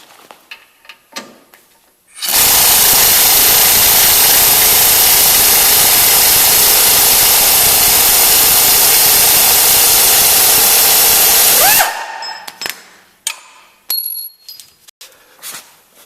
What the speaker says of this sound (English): Now using an impact wrench and a 55 Torx bit, we're going to disconnect the pan hard bar.